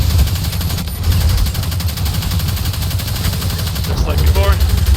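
Video game gunfire while sniping and shooting an enemy in a solo Lost Sector, with rapid loud shots over a dense, constant battle din.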